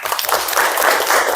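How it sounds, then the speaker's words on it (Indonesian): Audience at a classroom teaching session bursts into lively, close applause, many hands clapping densely and steadily throughout. "Tepuk tangan dulu dong."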